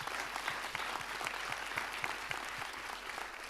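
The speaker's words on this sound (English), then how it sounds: "A round of applause." An audience at a Town of Cary citizen information session on Western Cary claps for town staff in a dense, even round of applause heard alone and at moderate distance.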